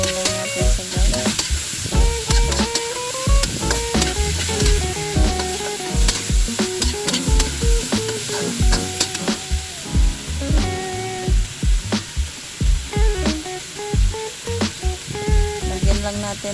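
Squash stirred in a coconut milk stew with eggplant, busy repeated clattering of a spoon against the pot over a bubbling sizzle, loud and close with occasional tonal clinks.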